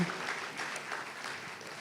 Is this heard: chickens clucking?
no